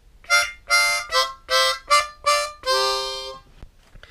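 A harmonica plays the second phrase of Twinkle Twinkle Little Star, alternating breathing in and blowing out: six short even notes and then one longer held note, clear and solo in a quiet room.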